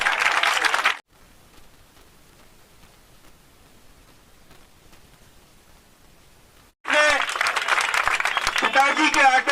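Audience applause bursts out at a felicitation event in Bhopal, a short round at the start, then near silence, then a longer burst of clapping with a voice speaking over it.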